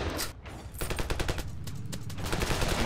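Sniper fire and other guns crackle in a Ravenfield firefight, a dense run of sharp repeated shots with a brief lull near the start, loud and close, with no voices.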